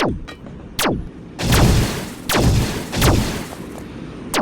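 Gunfire in a prison-escape alien-mode video game boss fight: several loud, sharp shots with booming tails, spaced about a second apart over steady background noise.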